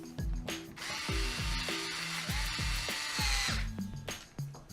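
A cordless power drill on a low torque setting drives a screw during a front-end bearing swap, whirring in short bursts with ratcheting clutch clicks and a longer steady run in the middle, close and loud.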